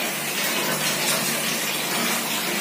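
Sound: water filling while washing a washroom

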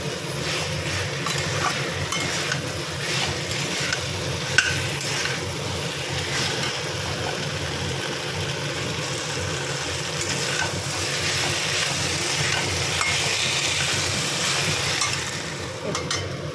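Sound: cauliflower and potato frying with spices, being stirred

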